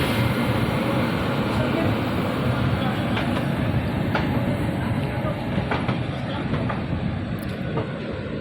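A passenger train departing Saharanpur station on the Dehradun to Amritsar route, a loud steady rumble with faint rhythmic clicks of wheels over rail joints, heard from on board.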